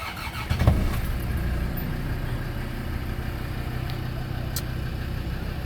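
A Land Rover Defender TD5 diesel engine idles in neutral with a smooth, steady low rumble and a brief louder start. No one speaks over it.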